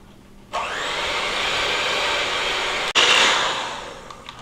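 An electric mixer whirs up loudly as it beats whipped butter, powdered sugar and vanilla for sugar cookie dough, holding a steady drone with one brief cut before running on and winding down.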